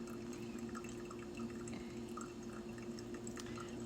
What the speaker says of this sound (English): So now is the third pour, which we're going to go slower and add a significantly amount of more water in this.